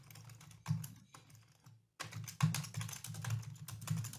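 Computer keyboard keys tapped in quick bursts while entering link text on a web page, close and fairly loud with short pauses between runs of clicks.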